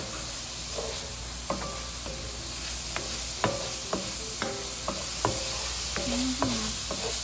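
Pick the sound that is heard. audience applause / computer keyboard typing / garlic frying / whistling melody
garlic frying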